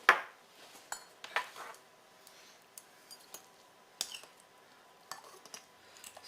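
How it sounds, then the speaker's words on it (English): Cream cheese being stirred with a little milk in a bowl, a spoon clinking and scraping against the bowl in irregular, fairly quiet taps with short gaps between. "Stir this together. It'll take a second just for that milk to incorporate."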